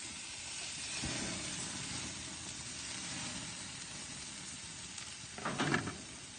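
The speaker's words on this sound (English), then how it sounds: "Okay, she's searing away, and we're going to do a 90-degree turn to get crisscross on the meat." A pork roast sears on a hot grill, giving a steady soft sizzling hiss that swells into a louder, sharper sizzle near the end as the meat is shifted.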